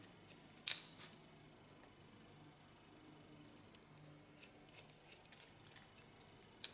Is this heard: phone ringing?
no